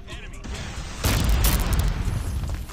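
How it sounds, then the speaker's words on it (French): A grenade blows up in Call of Duty Mobile, a loud booming burst with a rumbling tail that follows quieter game noise. "Grenade."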